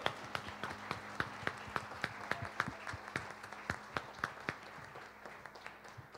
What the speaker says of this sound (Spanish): Démosle un fuerte aplauso a nuestro Señor